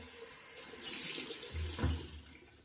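Tap water runs into a sink while someone washes their face, a steady close hiss of flowing water with a few splashing thumps near the end.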